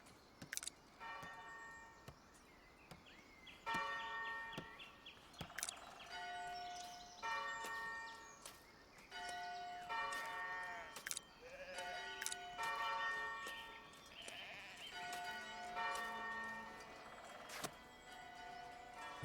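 A bell tower in the village-building game Foundation rings out in a series of clear tolling strikes over about twenty seconds, the tones overlapping and fairly soft against a quiet game backdrop.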